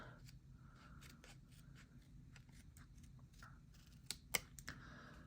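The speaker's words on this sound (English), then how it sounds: "I'm just going to cut it a little bit." Scissors snipping through planner paper, a string of short, quiet cuts in an otherwise hushed room, with a couple of sharper clicks near the end.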